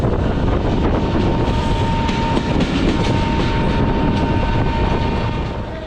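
Train entering Nachol railway station, a loud, continuous roar of rolling wagons and wheels on the rails, with wind buffeting the microphone and a faint steady tone, easing slightly at the end.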